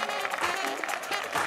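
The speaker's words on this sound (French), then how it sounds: "Veuillez faire un tonnerre d'applaudissements pour l'honorable parlementaire" Crowd applause at a stand-up comedy show greeting a comedian onstage, a short, steady, dense clatter of many hands clapping, moderately loud, with faint voices underneath.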